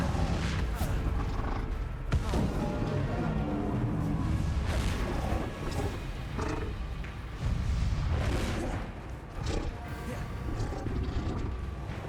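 In Hogwarts Legacy, the Confringo blasting curse fires again and again, with booms and whooshes punching through dense, roaring combat noise that never lets up.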